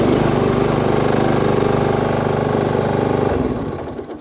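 Small engine of a motorised barrow running loudly and steadily up close with a rough, throbbing drone, then easing down and fading toward the end.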